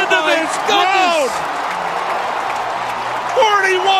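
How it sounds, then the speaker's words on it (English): Stadium crowd of about 41,900 roars and whoops after a game-tying goal late in an NCAA lacrosse final, a steady loud wash of cheering with a play-by-play announcer's excited voice over it at the start and end. "Listen to this crowd."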